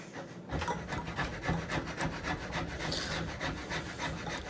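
A gouge scrapes and rubs steadily through wood while carving a mini book, in a close, continuous rasping rhythm with repeated strokes and no talk.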